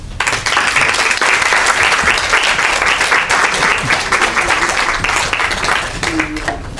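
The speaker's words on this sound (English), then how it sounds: "Another round of applause, please." Audience applause after a dialogue talk on education leadership. A loud, dense round of clapping from a large crowd carries steadily for several seconds, then tapers slightly near the end.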